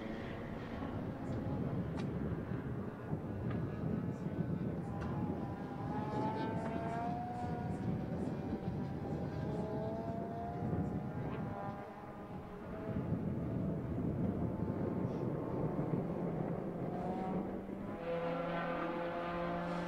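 Race cars lapping Circuit of the Americas during a time-attack event, including a red 1999 Nissan Skyline R34, heard as a sustained engine roar whose pitch rises and falls through gear changes, distant-to-mid range, under faint crowd and commentary noise.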